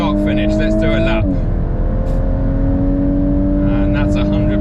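A Volkswagen Mk8 Golf R sets off on a track lap, its engine droning steadily and loudly close by with a slight pitch shift as it pulls away, a voice talking over the top.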